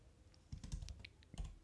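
Typing on a Mac computer keyboard, a short burst of soft, quick key clicks close by in a quiet room, about a second of tapping with a brief pause before a final pair of keystrokes.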